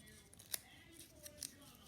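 Scissors snip through paper while cutting out a winter gnome shape, a few short crisp cuts standing out over a quiet room.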